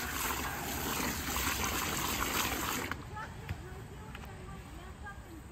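Water siphoned off soaking tomato seeds trickles and sloshes steadily, then drops to quieter dribbles and small splashes partway through; a voice talks over it.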